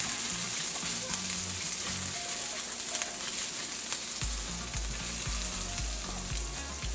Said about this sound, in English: And to that oil, I'm going in with some garlic and some ginger. You want to saute this on low.